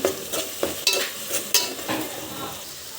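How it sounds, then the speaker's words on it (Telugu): Turmeric and ginger paste fry in a pan for mutton curry, with scraping stir strokes at short, irregular intervals over a soft, steady sizzle, close by. "ఇది దోరగా వేగేలాగా వేయించుకోవాలి."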